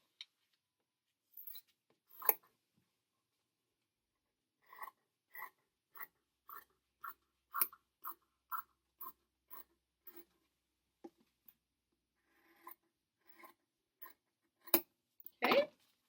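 Scissors snipping through fabric while a scrub cap piece is cut out, a quiet series of short crisp cuts in irregular runs with pauses, close and alone in an otherwise silent room.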